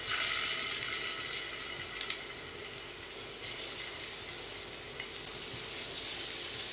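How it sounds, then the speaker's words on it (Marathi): Corn cutlets shallow-fry in a little oil with a continuous soft sizzle and crackle, faint but steady, with occasional small pops and no talking. "शॅलो फ्राय करू"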